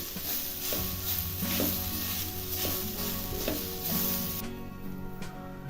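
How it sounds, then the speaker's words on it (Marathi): Fresh grated coconut filling is roasted in a pan: a constant close sizzle with repeated scraping stir strokes at a steady pace, and no voices over it. "आता थोडंसं असं भाजून घ्यायचं"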